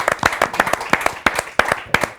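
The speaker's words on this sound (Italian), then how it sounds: "anzi io direi facciamo un applauso ad Andrea." Small audience clapping in a hall, a sparse uneven round of distinct individual claps, close and clear, with a few louder hits standing out.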